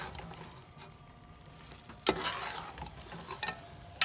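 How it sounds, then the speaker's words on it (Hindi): Okra and tomato fry in a pan with a splash of vinegar, a faint low sizzle broken by a sharp clatter of stirring midway and a few lighter scrapes after. "अब इसमें थोड़ा सा हम सिरका डालेंगे, एक डेढ़ चम्मच। बस इसको थोड़ा सा और फ्राई करते हैं।"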